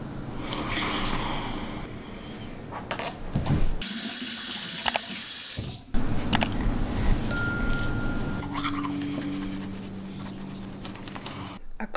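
Cold water runs from a bathroom tap for washing the face early in the morning, a steady faint splashing with handling noises, a louder gush in the middle, then quieter trickling.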